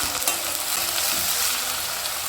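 Seedless young eggplant frying in oil, a steady, loud, even sizzle that fills the whole short stretch with no voices over it.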